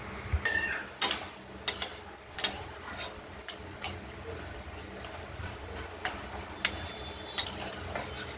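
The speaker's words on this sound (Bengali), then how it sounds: "কড়াইয়ের ঢাকনাটা খুলে আমরা একটু নেড়ে চেড়ে দিলাম" A kadai of thinly shredded banana stem, cooked in oil with mustard-seed tempering, is stirred after the lid comes off. Soft, sparse clinks and scrapes of the utensil sound against a steady low background hiss.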